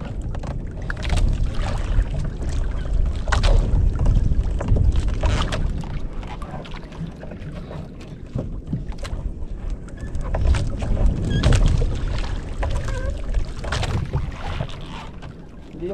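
Strong gusts of wind buffet a small boat on a river, producing continuous rumbling wind noise against the microphone with occasional creaks and knocks from the boat.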